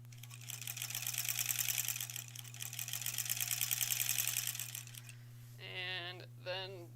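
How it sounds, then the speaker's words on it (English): A sewing machine stitches quilt block ends together for an Aurifil quilt, running steadily and close for about five seconds over a constant low hum, then stopping as a voice speaks briefly. "I was just sewing these ends together."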